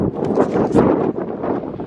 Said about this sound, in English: right now it is super windy